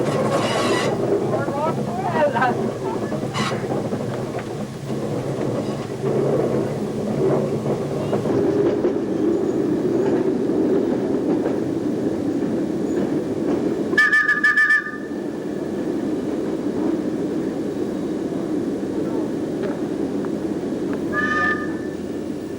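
Battery electric locomotive L44 of the London Underground hauls a train slowly out of a depot yard, giving a steady rumble and rolling noise with brief squeals and a sharp hiss partway through.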